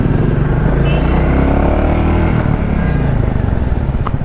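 A Royal Enfield Classic 350 motorcycle's single-cylinder engine runs on the road with a steady, loud, low rumble and constant wind noise throughout.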